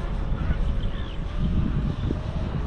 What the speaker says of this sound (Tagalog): Grabe yung hangin. Ang lakas nga.